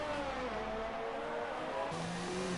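An F2 race car from a racing video game, set at the Mexico circuit, passes with a steady engine whine that shifts pitch partway through, fairly loud and continuous with no talk over it.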